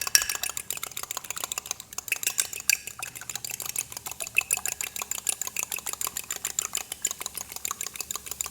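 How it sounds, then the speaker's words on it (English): Eggs whisked in a bowl for fried rice, a fast, steady clatter of metal whisk against the bowl, close and continuous with brief pauses, no talking. "whisk the eggs"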